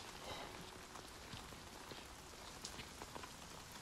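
Steady rainfall on a rainy day, a dense even patter of drops hitting surfaces with occasional louder nearby drips, continuous and close with no voices.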